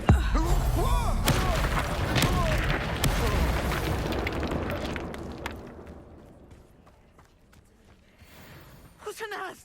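An Incendio fire spell bursts in Hogwarts Legacy: a loud, roaring blast with crackling rumble that swells at once, sustains for several seconds, then fades into quieter ambience before a short rustle at the end.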